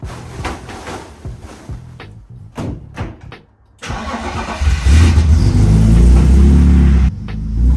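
A drift car's engine starting up amid some clunks and knocks, then revving and building into a loud, sustained roar close by.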